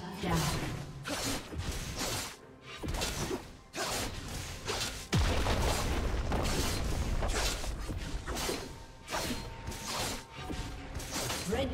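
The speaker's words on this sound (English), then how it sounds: "Red team's turret has been destroyed." In League of Legends, a turret is destroyed amid a clattering run of mechanical crunches, grinding creaks and whooshes. Loud broken bursts come in an uneven rhythm, turning into a steadier crashing rumble midway.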